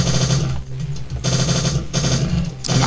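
Rapid automatic gunfire from the video game Strife, loud and close, hammering in sustained bursts with brief gaps between volleys.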